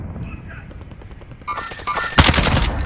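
Bursts of automatic gunfire rip through a first-person shooter game, starting sparse and distant, then growing into dense, loud volleys of rapid shots near the end.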